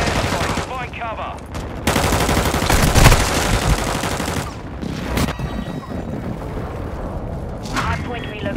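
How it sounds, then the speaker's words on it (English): An airstrike lands in the mobile shooter Warzone Mobile amid heavy machine-gun fire and deep booming blasts, loud and chaotic throughout, with game voice lines heard over the din. "Enemy retreat airstrike. Find cover."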